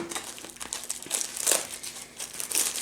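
Red deco mesh roll from Dollar Tree being handled and pulled open for a wreath, giving close, bursty crinkling and rustling that rises and falls in quick handfuls.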